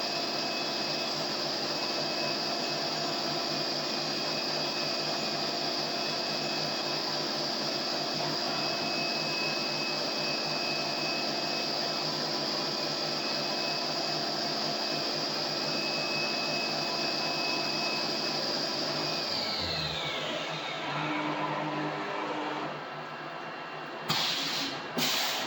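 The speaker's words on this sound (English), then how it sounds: "Now we're piloting out and boring the holes to the correct size for the screws." A machine tool hums steadily with a high whine while boring screw holes in a 1964 Corvette fuel injection fitting, then winds down and stops near the end, followed by a few clicks.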